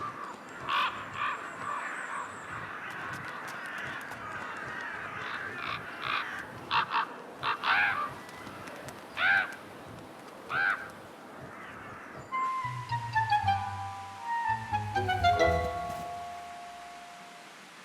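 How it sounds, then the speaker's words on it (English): A crow caws repeatedly in the taiga while harassing a wolverine, a series of loud separate calls spaced a second or two apart, followed near the end by a different cluster of louder calls. "The crow's persistent aerial harassment will drive it away from a potential meal."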